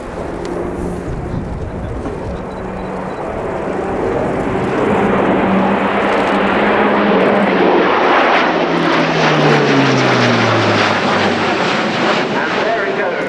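An Airbus A400M military transport aircraft makes a high-speed pass at an air show, its loud propeller drone building and then sliding down in pitch as it passes close by, with continuous roar throughout.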